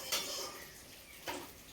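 Fried potatoes tip into a basket in a village-style kitchen, with two brief metallic clatters of utensils against the container over a quiet background.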